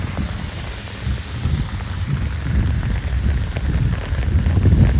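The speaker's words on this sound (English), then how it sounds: "It's just pouring rain." Heavy rain pours steadily on a downtown street, a dense, continuous wash of drops that builds slightly louder over the span with no voices.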